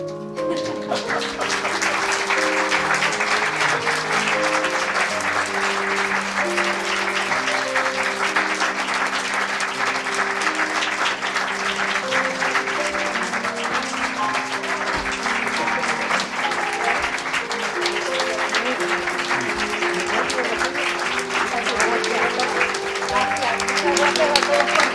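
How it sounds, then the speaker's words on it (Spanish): Sustained applause from an audience at a Madrid literary and musical gathering, dense and steady for the whole stretch, with a faint musical tone lingering beneath the clapping. "Repetido por estos aplausos que se han merecido"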